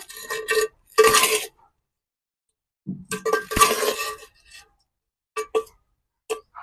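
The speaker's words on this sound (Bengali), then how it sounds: "দিয়ে ভালো করে এটা আমি নেড়ে নেবো।" Handi chicken being stirred in a pot after a splash of water: intermittent metallic clinks and scrapes of a spoon against the pot, in short irregular bursts separated by silence.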